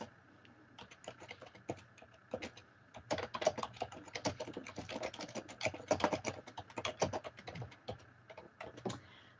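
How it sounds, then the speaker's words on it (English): Close, quiet keystrokes on a computer keyboard come in quick irregular bursts with short pauses, a steady soft clatter with no voices. "I am typing a little message to you"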